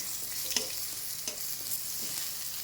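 Pointed gourd (potol) pieces fry in hot oil with a constant, bright hiss, with a few soft stirring taps heard close by.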